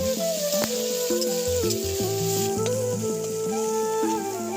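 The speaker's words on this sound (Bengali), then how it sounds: "সেদ্ধ করে রাখা ছোলাগুলোকে দিয়ে একটু হালকা ভাজা ভাজা করে নিয়ে" Boiled chickpeas lightly frying in a pan with taro leaves, a steady close sizzle with scattered stirring clicks and scrapes throughout, no talking.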